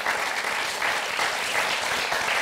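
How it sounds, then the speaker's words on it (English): An audience claps for composer Christopher Willis, a full, continuous round of applause from a sizable crowd, steady and close with no voices standing out. "can you please give a round of applause?"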